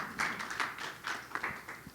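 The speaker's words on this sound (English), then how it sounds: "That was the first round of applause for a response" Brief audience applause at a leadership summit discussion, a short patter of claps that is fairly faint and thin.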